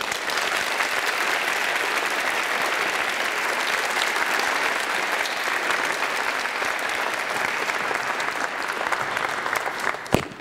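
A literary prize audience claps warmly and steadily for about ten seconds, thick even applause with a faint crowd murmur beneath, ending in a small final clap.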